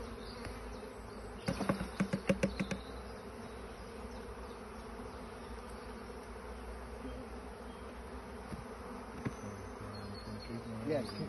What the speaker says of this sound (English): These bees are being shook in.